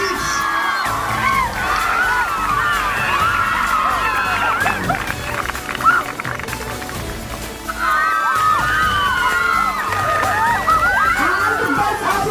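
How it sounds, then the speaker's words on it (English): Large crowd at a school interschool athletics meet cheering and whooping continuously, loud shouts and children's yells swelling in waves throughout. "Come on, everybody should cheer up for the future athletes."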